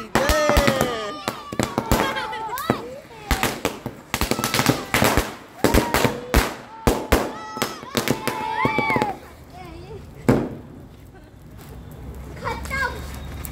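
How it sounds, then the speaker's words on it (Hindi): Firecrackers crack and pop in rapid irregular bursts, loud and close, at a Dussehra Ravan dahan celebration, while children shout and chatter excitedly throughout. "अच्छे पटाखे हो।"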